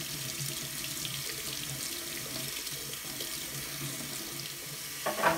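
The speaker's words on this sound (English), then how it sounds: "So we're just going to rinse this out." Tap water runs steadily into a sink as a PetSafe Drinkwell charcoal filter is rinsed under it, a continuous hissing splash with a brief clatter at the end.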